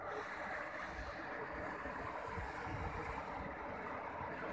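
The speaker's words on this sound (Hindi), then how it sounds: "यहाँ का फेमस झरना" Steady, broad rushing of falling water from the waterfall at Pari Taal during the rainy season, a continuous outdoor roar with no voices over it.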